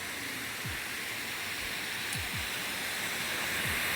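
Water churns steadily in a large water filtration plant where a slow rotating mechanism stirs a settling tank, a constant broad rushing wash with faint low thumps underneath.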